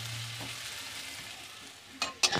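Onions frying in a pan for a Bengali-style chicken kasa, giving a faint steady sizzle, then a few sharp clattering stirs near the end.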